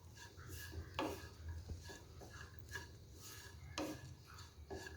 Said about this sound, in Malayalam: ബീഫ് മസാലയിൽ നല്ലപോലെ തന്നെ ഒന്ന് ഇളക്കിയെടുക്കണം.